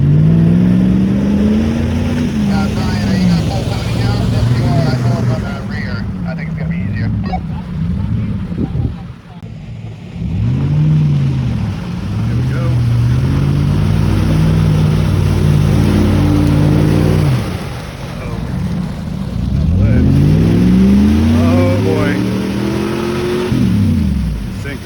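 An off-road vehicle, among a built V8 Jeep ZJ and Chevy ZR2 group, churns through an ice-caked mud hole, its engine revving in loud rising and falling surges with crunching and splashing close up.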